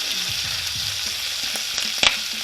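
Bacon slices frying in a pan on a stovetop, a constant crackling sizzle with a sharp loud pop of spattering fat near the end.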